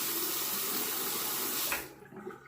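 Water from a tap runs steadily as a disposable razor is rinsed beneath it, a close, even rush of flow that cuts off sharply near the end, leaving faint handling noise.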